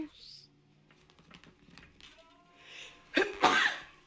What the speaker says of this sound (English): Ooh, excuse me, I just sneezed